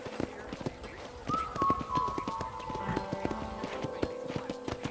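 Horse hooves clip-clop in a steady trotting rhythm in the Western video game Red Dead Redemption, fairly quiet, with a brief whinny-like tone and soft game ambience around them.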